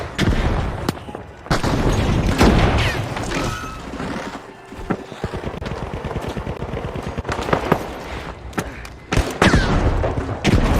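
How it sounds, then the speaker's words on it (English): Grenade blast amid intense gunfire in the shooter game The Finals, loud and dense, with continuous machine-gun bursts, booms and mechanical clatter filling the whole stretch. "Grenade out!"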